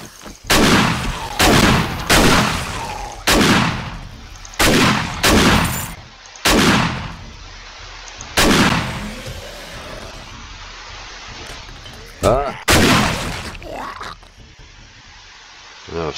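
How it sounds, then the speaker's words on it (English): Shotgun blasts in the survival game 7 Days to Die during a tier 5 clear-the-area quest, about nine loud, close booming shots at an irregular pace with short decaying tails, one quick double shot near the end. "right, shotgun."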